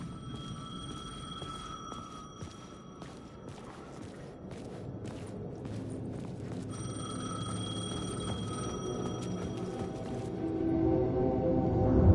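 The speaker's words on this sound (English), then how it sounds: "payphone was ringing. Somehow I knew the call was for me." A payphone in the video game Alan Wake 2 rings in repeated bursts separated by short pauses, over low ambient rumble and a few footsteps, growing a little louder toward the end.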